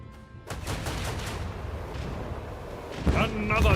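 Macro cannon fire in the Warhammer 40k Rogue Trader video game: a sustained, loud, booming barrage with rumbling low-end that swells toward the end, overlaid with brighter synthesized tones.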